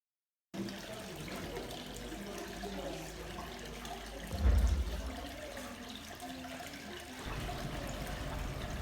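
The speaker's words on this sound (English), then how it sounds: "This spring comes from about 15 meters deep." Water running steadily from a desert spring at St. Anthony's monastery, a continuous trickling wash with a brief low thump midway and slightly fuller flow near the end.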